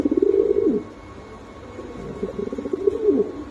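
Domestic pigeons cooing at close range in a caged market setting, two rounded, throaty coo phrases separated by a short pause, loud and clear with no talk.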